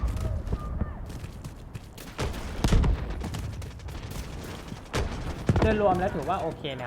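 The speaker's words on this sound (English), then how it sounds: "Artillery barrage incoming." Artillery barrage in the mobile game Delta Force Mobile: dense, continuous rumbling volleys of gunfire and explosions with sharp cracks, loud throughout, with radio-style voices speaking over the combat.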